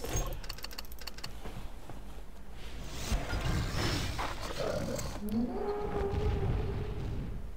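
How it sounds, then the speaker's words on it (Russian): Low, rumbling sauropod roar from the Jurassic World The Game mobile game, faint and growling for several seconds with a tonal bellow toward the end, preceded by light clicking interface sounds. "звук рева зауропода."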